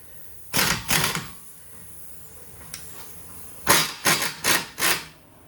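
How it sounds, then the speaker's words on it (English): A bolt backed out on an Audi A4 rear brake during a pad and rotor job, heard as close, loud bursts of ratcheting or metallic clicking: two quick bursts, a pause with one faint tick, then four more in a rapid row. "I got to actually back this bolt out a little bit."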